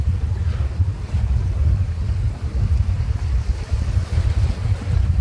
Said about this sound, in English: It's high tide at the moment, so this is about as much chop as you get.